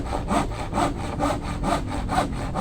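A hand saw with a freshly sharpened blade cuts through wood for a cabinet in quick, even back-and-forth strokes, about ten rasping passes, close and clear.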